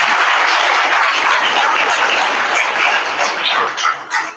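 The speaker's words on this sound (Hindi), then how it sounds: "प्यारे बच्चों और विद्वान साथियों से गुजारिश कि जोरदार तालियों से आपको" Students and teachers applaud loudly at a ceremony in a government intermediate college, a thick, close wash of clapping that holds strong and thins into scattered claps near the end.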